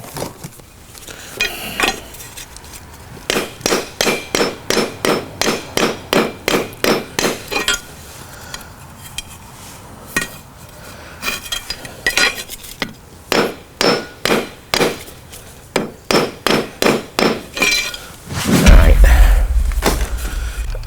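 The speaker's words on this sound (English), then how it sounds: "Let me see if I have a hammer. We can just kind of flatten this out." A hammer strikes a metal arcade control panel from a Mortal Kombat II cabinet to flatten it, delivering loud rapid bursts of ringing blows in runs of ten or more, separated by brief pauses, with a closing clatter.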